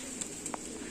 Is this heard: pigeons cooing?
yes